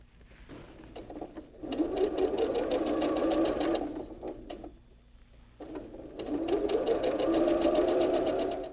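A sewing machine stitches a quilt block seam in two rapid, steady runs with a brief pause between, its motor humming and needle clattering close up and clear.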